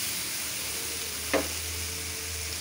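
Cumin powder hits hot oil in a pan, giving a steady close sizzle with one short scrape or clink partway through.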